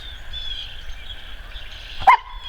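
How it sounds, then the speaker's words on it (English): A dog barks once on a hand signal during clicker training, a single short, loud bark near the end after a quiet stretch with a faint steady background hum. "another thing that I've taught him is to bark when I go like this"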